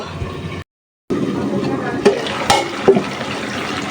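A curry sautéing in a pan with loud, steady sizzling, broken by a brief silent gap and then a few sharp scrapes and knocks of a spoon stirring.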